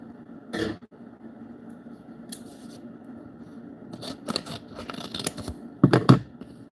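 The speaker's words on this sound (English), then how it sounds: "Scissors." Scissors snip through cardboard for a homemade PC case in a quiet room, a few scattered crunchy cuts and rustles with a louder burst of cutting near the end.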